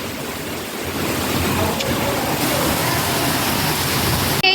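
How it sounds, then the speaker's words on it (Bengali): Steady heavy rain roars with gusting wind, a dense continuous wash of noise throughout, ending with a short sharp knock. "শুধু বৃষ্টি না হাওয়াও হচ্ছে"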